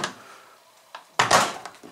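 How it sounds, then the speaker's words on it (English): A Samsung washing machine door showing a dS door error is worked open and shut. A soft knock comes first, then a loud, sharp clunk and rattle up close, with no voices. "Sometimes you can try just open a closed door"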